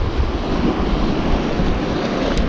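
Strong wind gusting along the coast during winter bass fishing, a loud steady roar with low rumbling buffeting against the microphone, surf and water blending in, no talking.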